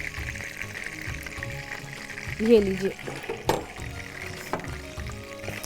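Tadka sizzles in hot frying oil in a cooking-show kitchen, a steady crackling hiss with a brief louder burst midway, while a presenter talks over it.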